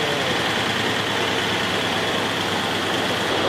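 A repaired truck engine runs at a steady idle, close and loud, with a constant broadband rumble for a few seconds and no talk.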